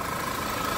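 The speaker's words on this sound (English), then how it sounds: "Audi TFSI engine. Sounds nice and clean, no weird noises, no weird hesitations." A 2013 Audi A6 TFSI engine idles steadily with a smooth, even hum, close and constant, without misfires or hesitation and with no voices.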